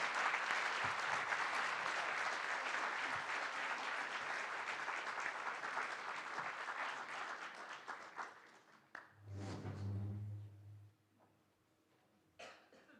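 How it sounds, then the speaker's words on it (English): An audience at a community meeting applauds candidates with sustained clapping that gradually fades, followed by a few coughs and a low murmur as it dies away. "Let's all give them a rousing shout and applause."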